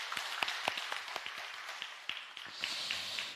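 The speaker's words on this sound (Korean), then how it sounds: "박수 한번 쳐주세요." Congregation clapping in a church service, a loose run of distinct hand claps at an uneven rhythm, fairly quiet and slightly distant, thickening into a soft wash of applause toward the end.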